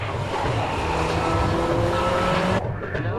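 Honda Type R cornering on a race track in Japan, a loud close engine drone with faint tire squeal through the bend before the engine note drops off abruptly near the end.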